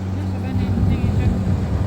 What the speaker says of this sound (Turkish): Teknemiz de geliyor.